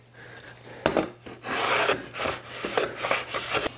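A hand tool cuts a dado into scrap wood, making short rasping strokes in an uneven rhythm, close and fairly loud, with brief pauses between passes and no one speaking.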